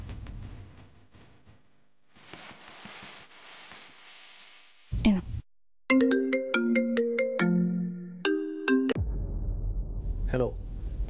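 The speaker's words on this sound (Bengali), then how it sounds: "এখনই একবার একটা ফোন করি।" A phone rings after a call is placed in a Bengali TV serial scene: a rising series of electronic ringtone tones, loud and clear, after a stretch of quieter background room sound.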